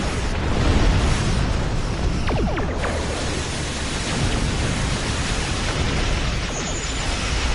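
An enemy ship blows up in a space battle game, a broad roaring rumble that swells and holds steady for several seconds, loud and dense, with faint sweeping tones passing through.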